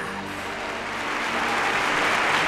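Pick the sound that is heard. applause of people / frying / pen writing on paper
applause of people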